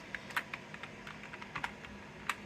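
Typing on a Dell USB computer keyboard, a quick irregular run of light key clicks with a few louder strokes, close and steady over a faint background hiss, no voices.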